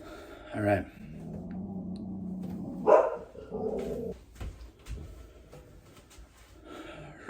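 A dog gives a few separate barks indoors, short moderately loud yelps spaced a couple of seconds apart, with a person talking in between.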